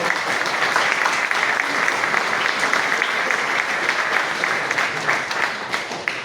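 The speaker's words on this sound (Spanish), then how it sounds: "Un aplauso, por favor, para el alcalde del Cusco." Sustained applause from an evening audience at a history congress, honouring the mayor of Cusco; dense, steady clapping from many hands fills the whole stretch at an even level, with no voices over it.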